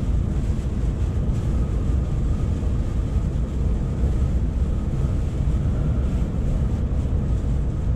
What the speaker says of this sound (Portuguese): Tá ventando com gosto ainda.